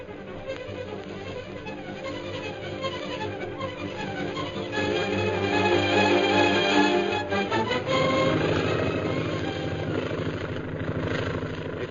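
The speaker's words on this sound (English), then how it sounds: "the plane piloted by Derek Bluger roars in from the hills" A propeller plane flying in from the hills to land drones steadily with a throbbing, whirring engine that grows louder and rougher as it nears.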